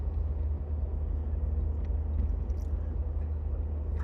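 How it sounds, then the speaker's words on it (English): Steady low engine rumble and road noise from inside a Fiat Marea car driving through Chicago, a constant droning hum with faint background sounds. "I never thought we'd be driving the Marea in Chicago"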